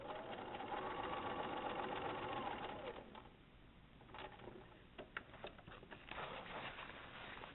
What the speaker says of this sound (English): I'm going to sew the second side of my X.